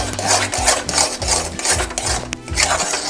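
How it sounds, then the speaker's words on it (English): A spoon scrapes quickly and steadily around a pan of atta halwa, producing rhythmic rasping strokes with a soft sizzle underneath, close and fairly loud. "keep stirring it like this quickly, just to avoid lumps"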